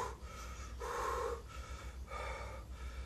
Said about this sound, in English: they hyperventilate before they take that last breath